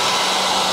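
A hair dryer blows in a salon while hair is dried after a mermaid-effect colouring, a loud, steady airy roar up close for under a second.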